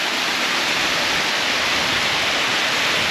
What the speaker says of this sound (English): But I love this water trickling down here.